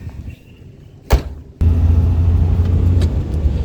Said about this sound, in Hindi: लगा के चौथा गियर निकल चुके हैं हम करनाल के लिए